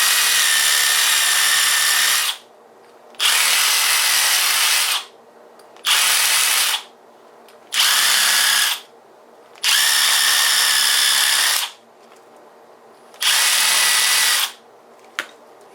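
An electric drill bores a Lee press handle in repeated loud bursts of a few seconds each, separated by short quiet pauses.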